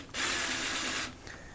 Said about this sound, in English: undo your screws.